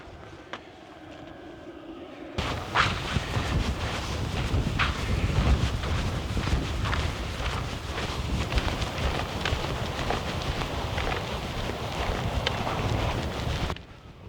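Strong 40 mph wind gusts buffet a truck camp at night, a loud, rumbling roar that cuts in abruptly and batters the microphone continuously before stopping suddenly near the end.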